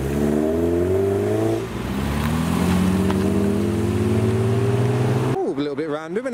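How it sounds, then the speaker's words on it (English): A classic MG Midget car drives past close by as it leaves a car meet, its engine a loud, steady drone that climbs in pitch, then shifts and fades as it moves away. "An MG Midget's driving by, he's probably just on a jolly."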